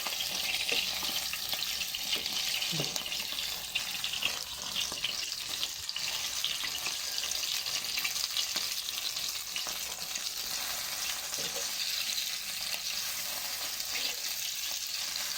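Food frying in a pan gives a continuous bright sizzle with steady crackle, fairly close, broken now and then by faint stirring scrapes and no talk.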